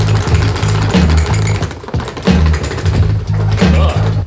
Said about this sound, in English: If your board is making that first knocking sound, it's because your outer hub bolts are loose